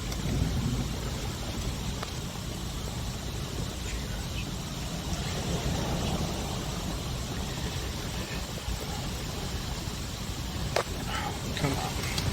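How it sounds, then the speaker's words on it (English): Steady rain from an approaching severe thunderstorm hisses across a beach, a constant wash of noise with a few sharper drops or knocks, while a person talks nearby. "Oh, here's the rain."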